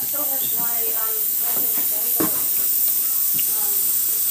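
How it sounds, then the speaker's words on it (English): A stovetop coffee maker hisses steam in a constant high-pitched stream, water escaping that should go into the coffee, while a voice talks quietly underneath. "it's hissing away. That's all water that should be in the coffee."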